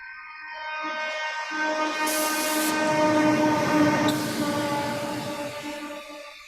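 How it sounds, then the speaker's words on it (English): A train horn in a music track sounds as a long, chord-like blast over the rolling rumble of the train, swelling loud in the middle and then easing away. "I could use the sound of the train as a transition"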